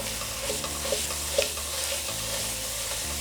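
Ground beef seasoned with cumin, black pepper, salt and garlic salt browns in a pan, a continuous close sizzle broken by soft scraping and stirring strokes, with no voices.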